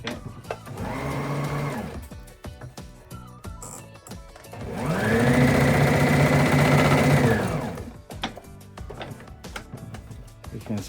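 A Brother BM 2700 sewing machine stitches fabric in three runs, with a short burst, a longer steady whir that rises and falls, then another burst, separated by clicks and handling noise, close and loud.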